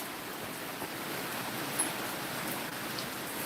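Steady rain falls outside in Tennessee, a constant broadband hiss with no distinct drops standing out, even and fairly loud throughout with no talking.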